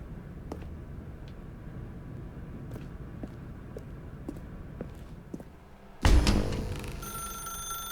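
Telephone in The Stanley Parable game beginning to ring after a stretch of quiet room tone with faint ticks, a loud, close bell-like ring that starts abruptly near the end and keeps sounding.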